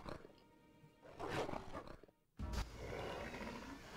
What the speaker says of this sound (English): Geralt judges kind of harshly when they're growling at him in his face